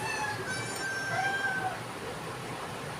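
A cartoon cat stuck up in a big tree meows in thin, wavering tones that carry through about three seconds over a steady background of soft music and ambience.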